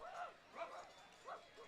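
Dogs barking at a minor-league baseball game, Lincoln Potters versus Medford Rogues, three short faint barks spaced apart over quiet crowd ambience.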